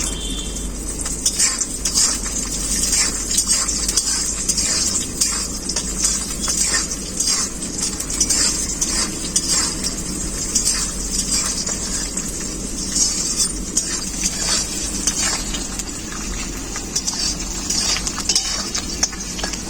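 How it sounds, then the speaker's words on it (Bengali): Peanuts fry in hot oil with a steady, loud hiss throughout, broken by scattered crackles and the light clinks of stirring. "তেলটা খুব ভালোভাবে গরম হয়ে গেছে, বাদামগুলো ভেজে নেব।"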